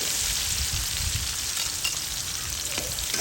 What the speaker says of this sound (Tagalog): igisa na natin yung ating garlic